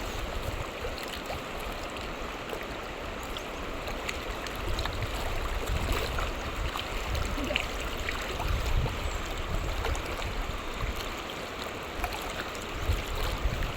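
A murky river current rushes steadily along, a dense, unbroken wash of flowing water that stays even and close throughout with no voices.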